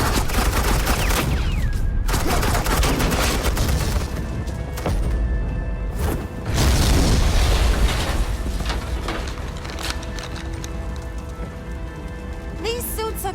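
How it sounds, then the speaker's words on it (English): Sustained automatic gunfire from the Batman: The Enemy Within game rattles as suppressing fire, a dense, loud barrage with hissing bursts and brief lulls, and no talking. "suppressing fire"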